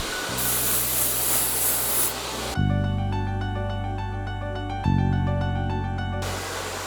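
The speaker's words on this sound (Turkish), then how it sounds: "Ayırdığımız saçı tarayarak hafif bir sprey yardımı kullanabiliriz" Hair spray misted onto freshly combed hair during a side bun styling, a steady airy hiss lasting about two seconds before sustained musical tones take over.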